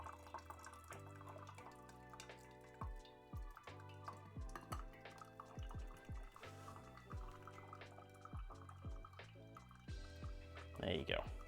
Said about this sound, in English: I'm just going to do about half the water weight.